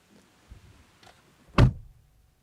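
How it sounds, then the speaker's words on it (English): A 2015 Volkswagen Passat door shuts with a single solid, muffled thunk heard from inside the cabin, preceded by a few faint rustles and followed by quiet. "from the moment you close the door"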